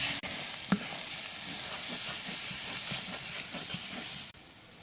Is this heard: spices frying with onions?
yes